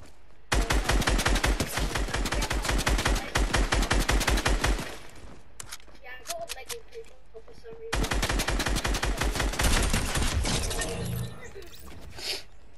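Rapid, loud automatic bursts from a drum gun in Fortnite, two long sustained volleys separated by a short pause filled with lighter clatter and faint game effects.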